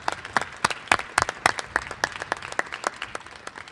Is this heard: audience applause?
yes